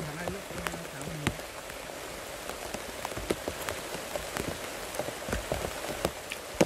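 Rain falls through old-growth forest during a February trek, a steady patter with sharp drips striking leaves and surfaces close by, a murmur of voices faintly underneath.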